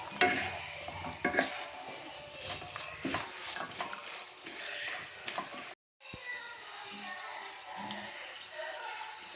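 Fried fish being stirred and mixed in a pan for fish pickle, a steady close scraping and sizzle that runs throughout and cuts out for a moment near the end.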